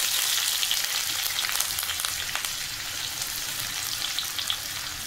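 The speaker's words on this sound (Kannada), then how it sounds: "ಈಗ ಆನಿಯನ್ ಹಾಕೊಂಡ್ರಿ." Chopped onion frying in hot oil for street-style veg noodles, a steady bright sizzle with small crackles and pops, close and continuous, easing slightly partway through.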